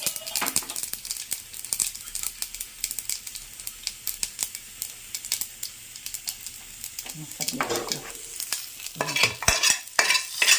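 Mustard seeds splutter in hot oil while tempering coconut chutney, a run of sharp irregular crackles and pops that grows into busier sizzling bursts toward the end.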